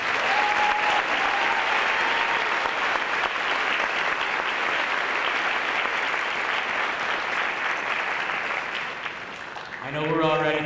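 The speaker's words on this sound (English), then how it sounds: "please join me in applauding these wonderful students" Dense, sustained audience clapping fills a senior awards ceremony for students, even and loud almost to the end, where a voice begins speaking.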